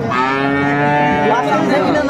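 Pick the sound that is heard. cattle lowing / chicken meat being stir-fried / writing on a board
cattle lowing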